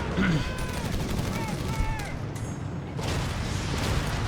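Machine guns rattle in rapid bursts during a World War II real-time strategy battle in Company of Heroes 3, running under an excited commentator's voice alongside other battle noise.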